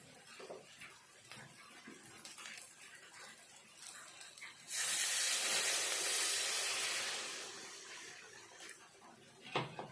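Water hits hot oil and spices in a pan for a rohu fish curry with a sudden loud hiss that sizzles for several seconds, then gradually fades, amid quiet kitchen noises.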